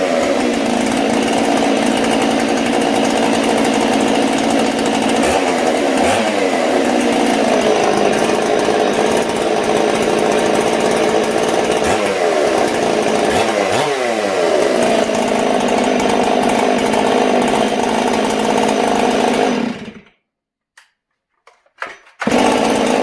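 A Stihl chainsaw, model 461, 562 or 266 per the shop's lineup, roars loudly and steadily in a workshop, its engine wavering in pitch for about twenty seconds before cutting out abruptly, followed by brief quieter sputters.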